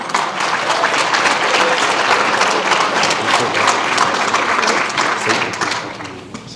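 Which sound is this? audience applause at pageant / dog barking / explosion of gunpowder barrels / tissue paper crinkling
audience applause at pageant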